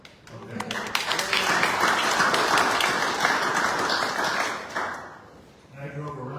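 Steady applause fills a village board meeting room, a dense, even wash of clapping that holds for nearly five seconds, then fades as a voice starts speaking near the end.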